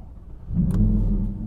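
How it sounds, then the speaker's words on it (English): An Audi R8 supercar starts on a snowy straight: a short quiet stretch, then a quick catch into a low, steady rumbling idle nearby. "So I'm going to start my engine."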